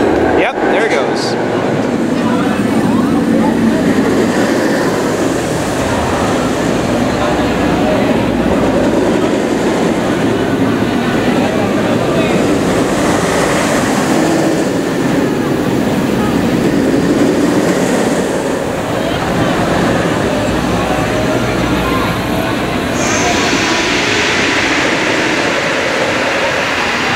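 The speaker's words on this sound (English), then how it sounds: "it almost sounds like I can hear drive tires, so hopefully we'll see a test in just a second" Incredible Hulk roller coaster at Universal Orlando during a test run, its drive tires giving a steady rumbling, rushing roar that rises and falls in waves and holds throughout with no pauses.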